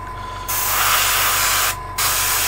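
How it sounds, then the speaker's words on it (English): Spray primer hissing onto miniature model parts for the Dystopian Wars tabletop game, two sustained bursts of about a second each with a short pause between them, close and fairly loud. "Local area spraying"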